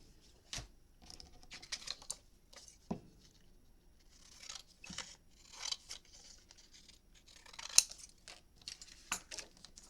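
Scissors snip straight across a sheet of paper for a handmade memory book, a series of crisp, close cuts at an uneven pace with quiet pauses between them.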